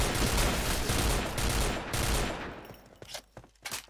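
Rapid gunfire in the shooter Point Blank, a loud sustained burst of shots for about two seconds, then a few scattered single shots that fade toward the end.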